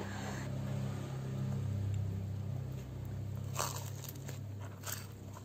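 Crunchy biting into homemade cakwe, Chinese fried dough sticks, still warm, with crisp crackly bites close up over a steady low background hum, no talking.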